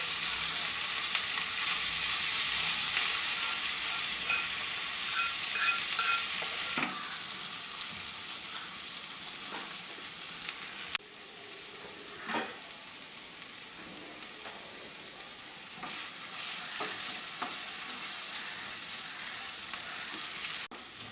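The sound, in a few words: mutton brain frying in a pan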